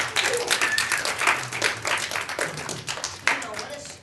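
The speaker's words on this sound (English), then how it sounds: "Give him a round of applause" An audience gives a round of applause, a dense spread of clapping hands that stays steady for several seconds at moderate loudness, with voices faintly mixed in.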